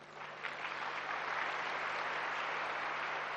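An audience at a spiritual class fills the space with continuous, dense clapping that holds steady at an even volume throughout.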